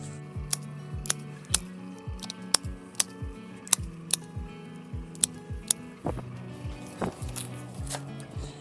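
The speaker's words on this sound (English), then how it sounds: "So I'm gonna cut it about 4 to 6 inches above the soil line." Garden shears cut back purple fountain grass about 4 to 6 inches above the soil, giving a steady series of crisp, close snips, roughly one or two each second, with no talking over them.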